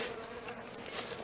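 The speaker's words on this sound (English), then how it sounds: "these bees are really nice today" Honey bees hum steadily at a hive on a cool spring day in Newfoundland, a dense, continuous buzz of many insects up close, with no voices.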